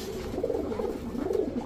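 Pigeons in a loft coo softly and steadily in a low, murmuring run, close and moderately loud, with no voices over them.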